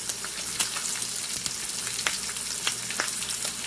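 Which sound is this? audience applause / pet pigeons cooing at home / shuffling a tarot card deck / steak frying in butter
steak frying in butter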